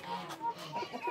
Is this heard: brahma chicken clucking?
yes